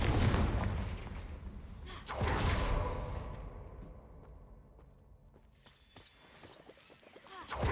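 A Confringo fire-blast spell from Hogwarts Legacy bursts with a heavy, booming whoosh, then a second blast follows, and the rumbling tail fades away before another impact swells at the end.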